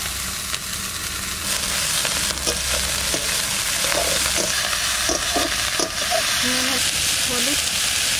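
Leafy greens (saag) and onion fry in oil in a kadai wok. A constant hissing sizzle is broken by occasional stirring scrapes, and someone talks over the cooking.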